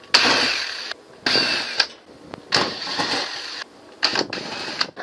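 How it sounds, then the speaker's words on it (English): A power drill backing screws out of the back panel of an LG washing machine, heard as several loud whirring bursts of about a second each, separated by short pauses, close up. "we take these 4 screws out of the back panel here"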